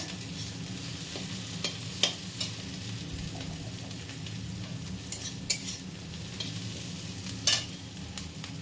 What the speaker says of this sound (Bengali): এই যে এখানে লঙ্কা পেঁয়াজ বসিয়ে দিয়েছি ভাজা ভাজা হচ্ছে